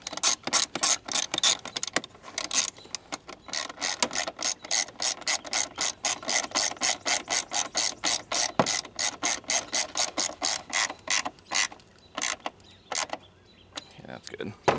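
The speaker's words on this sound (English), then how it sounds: "Get this bolt in there and snug it down." A ratchet wrench clicks rapidly and steadily as it tightens a bolt on a hold-down over a Ford Fusion's car battery. The dense, close clicking comes in repeated strokes with brief pauses, under occasional faint talk.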